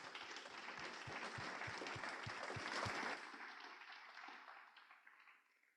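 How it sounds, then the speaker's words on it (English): Audience applause at an author event, a full room clapping steadily with a few close, distinct claps before it fades out over several seconds. "If we could give them a round of applause."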